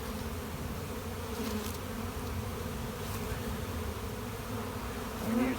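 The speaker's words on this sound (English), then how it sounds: "I've got 2 deeps full of bees" Honeybees buzz steadily in an open hive of two deep brood boxes, a close, continuous droning hum with occasional louder passes near the microphone.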